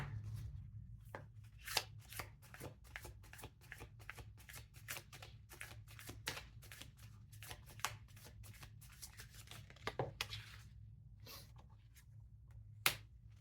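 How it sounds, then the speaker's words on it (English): Akashic Records Oracle cards shuffled and drawn by hand, a long run of quick crisp riffling snaps and slaps at close range, occasional sharper taps standing out, with no voices. "Let's pull an Akashic Records Oracle card to finish off your reading."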